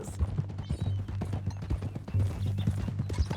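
A horse's hooves clip-clop in Red Dead Redemption 2, a close, steady run of hollow clops at walking pace over a low hum.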